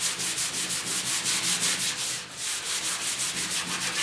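Hand sanding of freshly painted car door panels on a 1956 Mercury with 320 grit sandpaper, a close, rhythmic back-and-forth scratching rasp of about a dozen even strokes with a brief pause midway.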